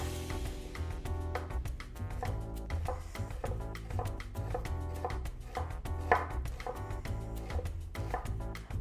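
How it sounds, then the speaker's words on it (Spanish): Onion being chopped finely with a kitchen knife, rapid repeated knife strikes against a cutting board in a brisk, uneven rhythm, close and clear with no talking. "vamos a poner nuestra cebolla, que les quería enseñar que la corten bien pequeñita"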